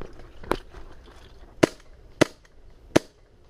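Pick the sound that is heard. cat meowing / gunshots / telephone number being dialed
gunshots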